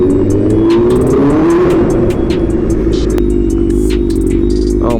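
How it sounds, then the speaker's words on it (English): A BMW M1000RR motorcycle revs and roars up close in a parking garage, its pitch rising then settling, echoing with a harsh, reverberant rumble. "something about a parking garage and a loud motorcycle that just goes together so well"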